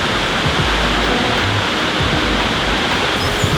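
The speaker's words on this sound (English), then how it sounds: "This is the Hidden Waterfall." Seljalandsfoss's hidden waterfall in Iceland in winter roars as a loud, steady, broadband rush of falling water, close and continuous with no voices.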